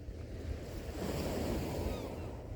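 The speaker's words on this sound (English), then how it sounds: "The waves are crashing" Sea waves crash and wash steadily close by, a continuous rushing roar that swells midway, with some wind noise and no talking.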